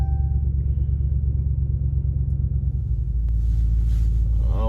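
2017 RAM 2500 Big Horn engine with a muffler delete, idling after being started: a loud, steady deep rumble, close and continuous, that grows heavier partway through.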